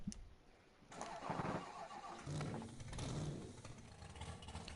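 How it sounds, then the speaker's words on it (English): A monster truck engine in a farming simulator game cranks and catches, settling into a low rumbling idle with mechanical clatter, fairly loud and close, no talking over it. "Oh, dude, it just sounds so good, this monster truck."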